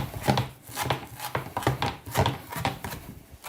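A knife chops fresh coriander on a board for a lamb and chickpea curry, giving a close, steady run of crisp thuds, roughly ten strokes in quick even rhythm, with no talking.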